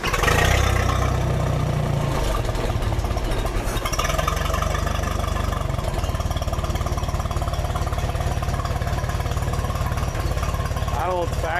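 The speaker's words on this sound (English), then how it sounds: "with the muffler on there, we'll bump the throttle just a skosh" Steady, close running of a 1966 Unimog U302 engine fitted with a longer-than-factory muffler, a brief throttle bump giving a louder surge at the start before it settles into a rough, even idle.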